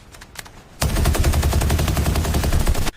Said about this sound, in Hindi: साहब, मैंने पहली बार इंसान पर गोली चलाई।